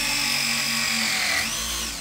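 Power drill driving screws into a washing machine valve box, a close steady high whine that holds for about two seconds, then dips in pitch and trails off near the end.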